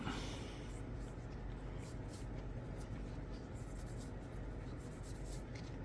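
A cloth shirt rubs mica powder into the surface of a plastic model, giving a steady, close, soft scratchy friction noise that continues throughout at low volume.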